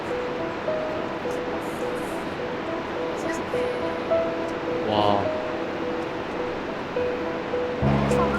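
Iguazu Falls roars as a broad, steady wash of falling water heard from a viewpoint, with excited voices and exclamations over the constant rush.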